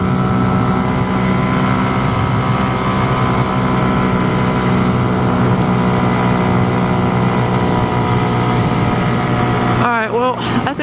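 A Honda Grom motorcycle engine holds a loud, steady roar, its tones sweeping as it downshifts and revs, before a sudden break near the end.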